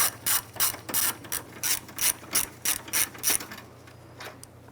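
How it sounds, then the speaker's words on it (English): Ratchet with a 7 mm socket clicking steadily in quick bursts while backing out a bumper screw on a 2006-2013 Chevrolet Impala, close and clear, then trailing off into quiet. "Using a number 7 socket, we're going to go ahead and remove this screw."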